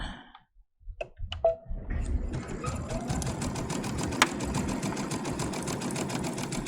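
A Luminaire sewing machine stitches elastic, its rapid needle clatter starting after a few faint clicks and then running steadily and close, with a single sharp click partway through.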